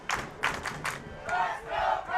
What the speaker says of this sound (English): Now the crowd erupting here.